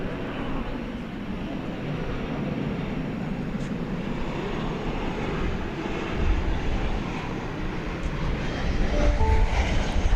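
An American Airlines jet takes off from runway 18 Left at DFW Airport at night, a broad, loud, continuous engine roar that holds steady and grows slightly stronger toward the end.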